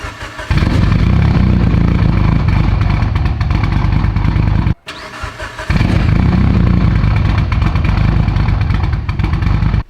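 A straight-piped 700whp Mitsubishi Evo idling close and very loud, with a harsh, crackling exhaust drone that briefly cuts out, then returns to a steady loud rumble.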